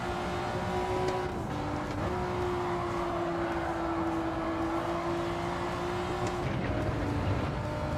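Race car engines from a racing video game hold a steady, loud, sustained drone throughout with no talk, pitch dipping briefly around two seconds and again near six.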